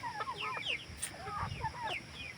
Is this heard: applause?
no